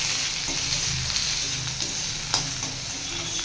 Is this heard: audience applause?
no